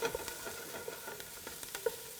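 Onions softening in a pan for a sausage and white bean soup, a faint steady sizzle with light crackles and small stirring taps, quiet and close, with no speech.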